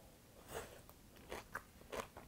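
Crunchy bites and chewing of a lettuce and tofu salad dressed with perilla oil, several quiet, close crisp crunches spread across a couple of seconds.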